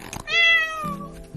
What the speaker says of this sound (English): Meow," said Cat